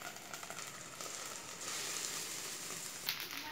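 A rava dosa cooks on an oiled pan, giving a soft, steady sizzle that grows slightly louder partway through, with a faint clink near the end.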